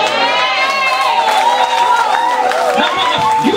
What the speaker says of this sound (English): Now, you are clapping.